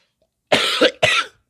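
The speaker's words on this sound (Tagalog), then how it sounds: "Inuubo tayo." Two sharp, close coughs in quick succession, loud and alone against silence.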